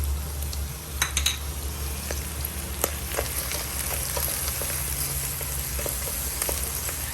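Potatoes fry in a pan for Oran-style dowara: a steady, close sizzle with a few light clinks of utensils against the pan and no talking.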